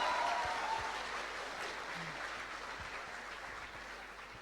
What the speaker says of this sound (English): The applause shows it.